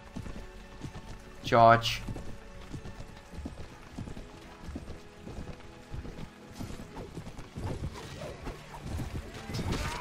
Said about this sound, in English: As soon as the cavalry has run past my enormous blob of infantry.